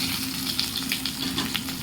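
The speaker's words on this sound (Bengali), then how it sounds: "এদিকে হচ্ছে মাছের মাথাটা ভাজা" A hilsa fish head fries in oil with a steady close sizzle dotted with small crackles and pops, with no voices.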